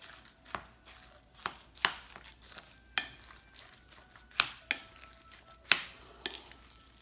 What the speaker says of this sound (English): now what you do is you're gonna mix it all up